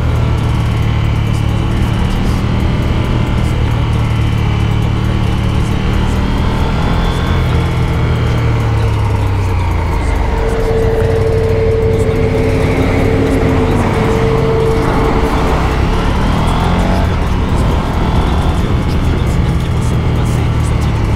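Close, steady engine and wind roar from a KTM SuperDuke 1290 motorcycle being ridden, with the engine pitch rising and falling as it revs through gears.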